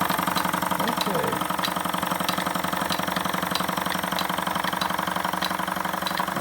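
A Jensen #10 deluxe toy steam engine runs driving two #100 blue-base workshop toys, a steady, rapid mechanical chugging and whirring with fast regular beats and light metallic ticks, close and continuous.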